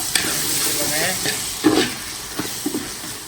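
Chicken curry masala fries in a pan while being stirred, producing a continuous close sizzle broken by a few louder scraping strokes of the spoon.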